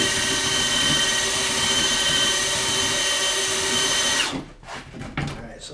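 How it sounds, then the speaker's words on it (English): A handheld power drill fitted with a mixing paddle stirs self-leveling floor compound in a bucket, a loud, steady whining drone that runs continuously, then winds down abruptly near the end into a few fading rattles. "I'm grabbing on with 2 hands onto my drill"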